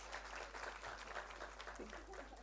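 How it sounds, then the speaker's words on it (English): Audience applause at a Women's Day event on deep tech and AI, a steady wash of many hands clapping, fairly faint and distant, continuous through the short stretch with no break. "Please put your hands together and give her a huge round of applause"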